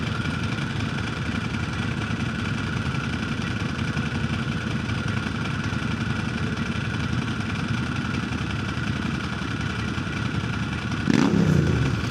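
A Ducati motorcycle idles close by with a steady, loud rumble, its dry clutch giving off a continuous rattle. Near the end there is a brief blip of revs.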